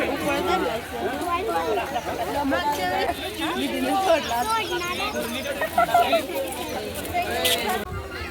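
Dense crowd of pilgrims at Pandharpur on Ashadhi Ekadashi, a steady wash of many overlapping voices and chatter close around, continuous throughout with no single voice standing out.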